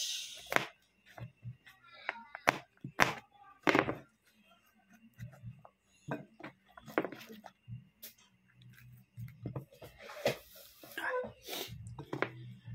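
Knife chopping onions on a board while cooking a jackfruit dish, scattered sharp taps and thuds at an uneven pace, with a person talking between the cuts.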